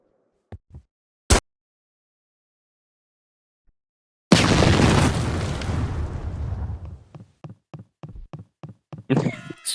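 A grenade goes off in a video game: a few sharp knocks, then a loud, close blast whose rumbling roar decays over several seconds into a string of short pops, with no talking.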